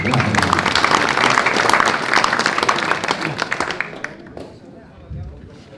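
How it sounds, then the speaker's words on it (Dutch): An audience applauds with dense, rapid clapping at an annual awards presentation evening, fading away toward the end, with voices heard beneath it. "Maar wel weer even een applaus."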